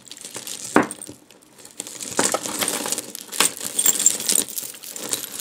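Heavy glass jewelry container bumping while a bag of thrift-store jewelry is rummaged, giving irregular clinks, jangles and rustling, close and moderately loud, with no talk.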